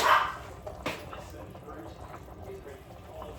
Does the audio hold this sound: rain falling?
no